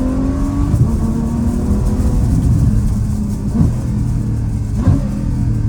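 A 2016 Ferrari F12 Berlinetta V12 fitted with an FI exhaust revs and downshifts up close, its loud rumbling engine note rising and dropping with several sharp shift blips and no talking.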